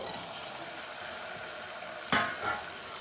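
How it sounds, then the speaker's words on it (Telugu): Tomatoes tipped into a pan of frying ginger-garlic paste for a drumstick mutton curry: a steady low sizzle, then one sharp clatter-and-hiss as they drop in, fading back to frying. "ఇప్పుడు మనం టమాటాలు వేసుకుందాం."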